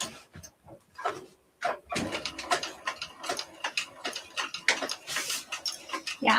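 A sewing machine top stitching fabric for a Scottie dog sewing project runs in quick rhythmic ticking bursts up close, starting and stopping between stitches, with no voices.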